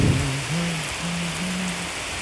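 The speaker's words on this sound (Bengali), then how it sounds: "তো বাইরে এখনো প্রচুর বৃষ্টি" Dense rain pours steadily close by, a constant wash of noise with a low droning hum underneath.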